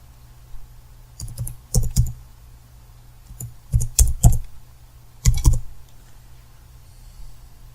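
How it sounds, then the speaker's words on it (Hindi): Bursts of computer keyboard typing as an iqama number is entered, several quick clusters of key clicks with short pauses between them, close and clear, with no talking. "यहाँ पर हम अपना इकामा नंबर टाइप करेंगे जिस इकामे की हमने इंश्योरेंस चेक करनी है।"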